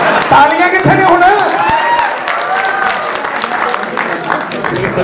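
A live stage show audience breaks into applause and crowd noise, heard close and loud at first and then easing, while a voice talks over it.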